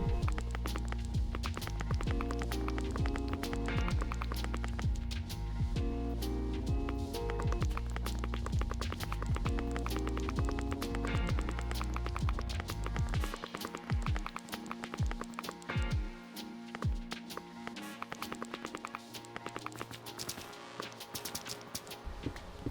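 Steady rain patters beneath a looping electronic Minecraft 1.18 game melody, which drops away halfway through, leaving the rainfall and scattered thuds.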